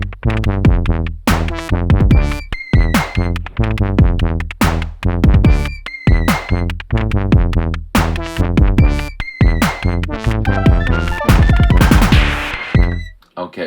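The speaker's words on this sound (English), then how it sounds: "let's take a listen to a loop or a beat I made on the Tempest" A punchy drum loop plays on an Elektron Tempest drum machine, with dense rapid kicks, snares and hats repeating in a steady driving pattern, loud and close throughout, ending with a noisy crash.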